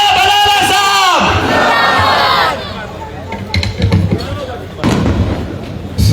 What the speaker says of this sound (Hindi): एक बार जोरदार नारा लगाइए, नारे तकबीर, नारे तकबीर